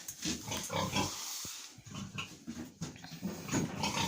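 Pigs and piglets in a farm barn on a cold day grunt and squeal in a close, busy chorus, with scuffling and movement throughout and no talk over them.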